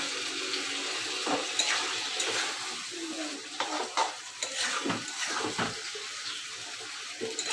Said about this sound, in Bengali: খুব ভালো করে কষিয়ে নিতে হবে।